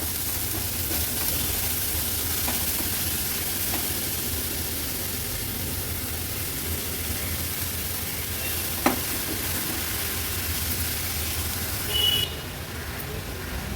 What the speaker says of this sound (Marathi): थोडी थोडी करून ही भाजी मी ॲड करते आणि अशी परतून घेते